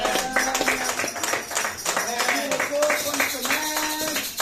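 A church congregation claps in a steady rhythm to acclaim the king of kings, the clapping mixed under a prominent voice that continues throughout.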